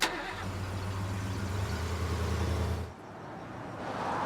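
A car engine runs steadily with a low droning hum for about three seconds, then drops off sharply as the vehicle slows, leaving quieter road and engine noise.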